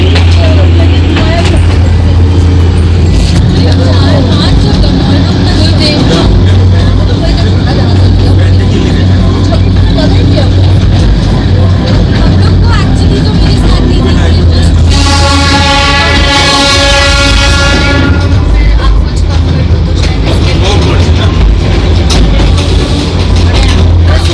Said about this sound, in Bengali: আমাদের ট্রেন আস্তে আস্তে এগিয়ে চলেছে ঘুম স্টেশনের দিকে।